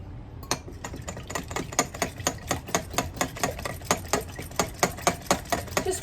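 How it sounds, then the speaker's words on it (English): A small push-down hand mixer is pumped up and down, likely through eggs, giving a steady series of sharp clacking strokes, close and moderately loud, about two to three per second. "Just wondering if anybody else has one of these little handy dandy mixers. You just push it up and down."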